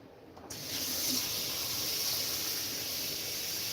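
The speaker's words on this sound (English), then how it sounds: "I'll rinse out this cup" A kitchen tap gushes in a steady, close hiss as a protein shake cup is rinsed under it. The water starts abruptly after half a second and runs on evenly, with nobody talking.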